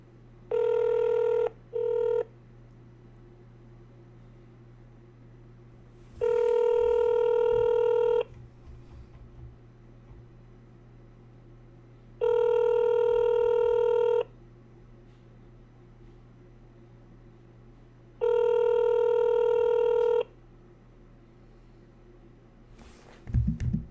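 Outgoing call ringback on a telephone: three long, even rings spaced evenly apart, preceded by two short tones, heard alone over faint room hum.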